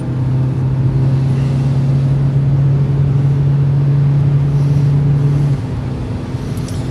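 A car accelerates during a driving lesson, its engine giving a steady, loud hum from inside the cabin that drops slightly near the end. No one talks.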